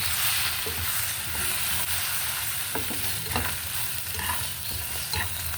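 Egg frying in a pan: a steady, close sizzle of hot oil with occasional pops and light stirring scrapes, continuous throughout with no talk.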